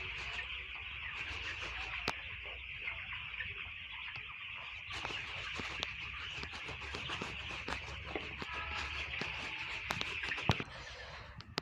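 Sick village chickens with Gumboro disease cluck faintly and steadily for several seconds, punctuated by scattered sharp clicks and knocks, with no voices.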